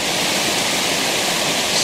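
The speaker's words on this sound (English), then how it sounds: "this is where the Staunton River flows into the Rapidan" Rushing water where the Staunton River joins the Rapidan River in Shenandoah National Park, a loud, steady, close roar that holds without any break.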